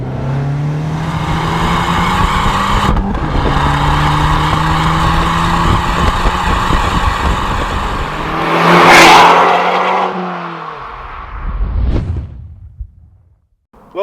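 Abarth 695 Rivale with an Akrapovic exhaust, loud raspy engine note held at steady revs then a sharp rising rev and a pass-by roar, fading away before a final short burst, no voices.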